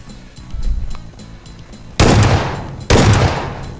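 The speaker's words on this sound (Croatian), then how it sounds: "Neko 76 me puca." Gunfire in the PUBG Mobile video game: faint sounds of movement first, then two loud sharp shots about a second apart, each ringing out with a long decaying echo.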